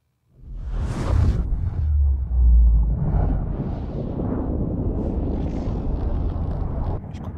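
A loud, sustained roaring rumble from an explosion underwater in Subnautica, booming up at first and then churning on steadily for several seconds.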